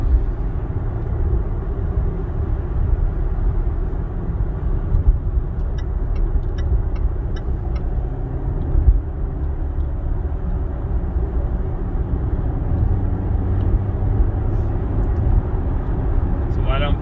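A Range Rover Evoque on city streets gives a steady, loud low road and engine rumble with tyre noise throughout, and someone talks over it.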